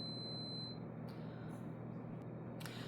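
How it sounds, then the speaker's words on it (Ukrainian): A household electronic device gives thin high-pitched beeps, one steady tone at the start then a few short chirps, faint against a quiet indoor room with no talking. "знову щось пищить"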